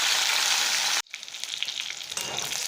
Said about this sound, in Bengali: পটলটাও ভেজে নিচ্ছি।